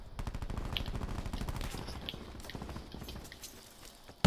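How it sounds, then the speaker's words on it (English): Rapid automatic gunfire in a video game, dense bursts of shots rattling close by for several seconds before thinning out, ending with one sharp loud crack. "Pull back, we're getting shot from the other way."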